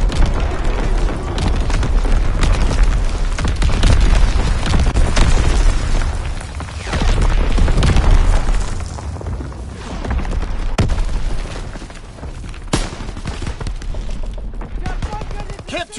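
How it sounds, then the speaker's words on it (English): Warship primary battery guns firing in a PS4 naval combat video game, heavy booms and rolling blasts repeating across the whole stretch amid a dense battle din, with game voice lines over it. "Firing primary battery."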